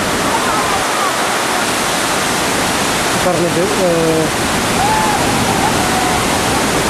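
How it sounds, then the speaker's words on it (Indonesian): Waterfall at a hydropower site in Papua, a steady roar of rushing water and wind-driven spray filling the clip, with children playing beneath it and a voice speaking briefly over the noise. "Mereka sedang bermain uap air terjun ini."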